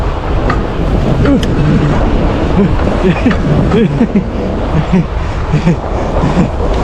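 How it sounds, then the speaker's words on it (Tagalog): Steady, heavy wind roars and buffets continuously in cold, snowy conditions, with a voice speaking intermittently underneath the blustery noise. "malamig talaga kasi malakas yung hangin"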